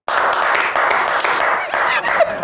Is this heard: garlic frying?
no